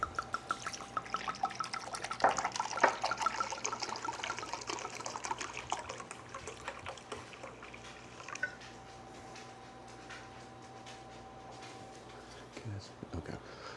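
Red wine trickles and splashes as it is poured into a cup for a steak reduction, a faint, continuous liquid sound with small drips, under quiet background noise.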